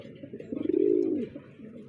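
A domestic pigeon, a six-month-old hen already laying eggs, gives one rolling throaty coo close by, rising and fading over about a second against a quiet background.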